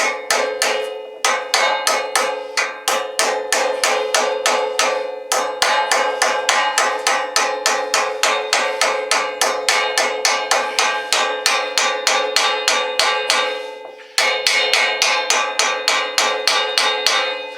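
A ball peen hammer taps a shaft bearing into its housing on a Bachtold high weed mower, producing a rapid, steady run of ringing metallic blows, close and loud, with one brief pause midway.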